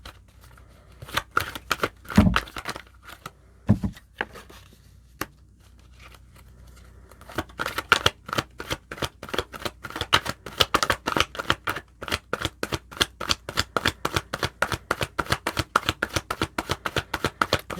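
Tarot cards shuffled by hand in quick, crisp riffling bursts, sparse at first, then a fast steady run of sharp clicks and flutters, close and clear with no talking.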